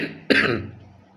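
A single short cough or throat clear, close and abrupt after a brief murmur, then fading.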